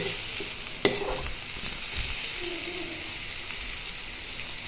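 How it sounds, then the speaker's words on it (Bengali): Chopped onion and garlic fry in a pan with a steady sizzle, opening with a sharp metallic knock, followed by soft scraping and stirring strokes at close range. "কিছুক্ষণ ভাজা হলে তারপর শাকগুলো এটাতে ঠুকে দেবো"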